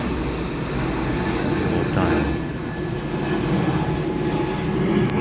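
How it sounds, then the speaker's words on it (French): An airplane takes off in Brittany, heard as a steady broad roar throughout, with speech over it. "il y a un avion qui décolle"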